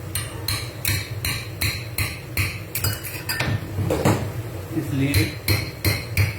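Someone punches holes in the cap of a vinegar bottle, making a quick series of sharp metallic taps and knocks in an irregular rhythm. A brief spoken word is heard among the taps.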